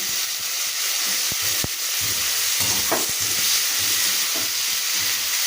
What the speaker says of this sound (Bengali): আলু পেঁয়াজটা আমার একটুখানি ভাজা হয়ে যায়